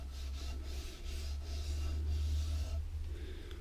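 A wooden guitar neck is being shaped with 120 grit sandpaper. Steady, continuous rasping strokes run close and alone throughout, with only slight swells in loudness.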